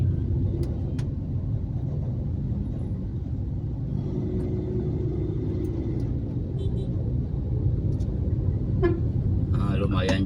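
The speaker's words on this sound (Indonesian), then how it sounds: "Lumayan juga ini macetnya" Jakarta traffic jam with a steady low engine rumble and a few car horn toots scattered across it, a cluster of honks near the end, while someone talks throughout.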